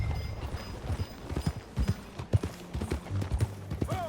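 Horse hooves clip-clopping at a steady riding pace in Red Dead Redemption 2, set on the Beecher's Hope ranch, with rhythmic thuds up close and a faint whinny near the end.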